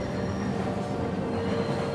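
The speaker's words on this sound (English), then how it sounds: "The train left the station after 2 minutes." A train pulls out of a station with a steady, close rolling rumble of wheels on rails and a faint high squeal running through it, with no voices.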